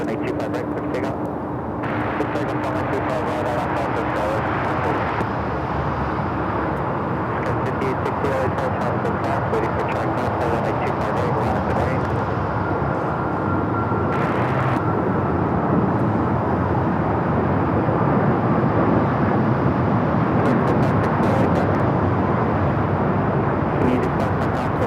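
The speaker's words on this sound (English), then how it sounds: "Air New Zealand Flight 6 about to touch down." An Air New Zealand airliner touches down at Los Angeles LAX. A steady, broad jet roar runs throughout with light clicks and brief bursts of noise over it.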